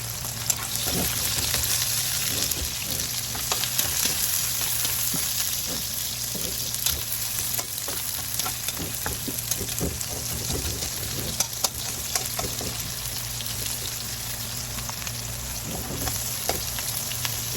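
Onion and red chili sauté in hot oil for spicy ginataang isda, giving a loud, continuous close sizzle with scattered crackles and occasional stirring clicks throughout.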